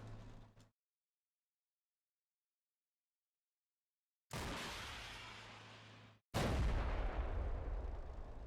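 A Dragon anti-tank missile launches in Combat Mission: Cold War, a loud blast that cuts in after a stretch of silence, followed by a second heavy roaring burst that sustains to the end.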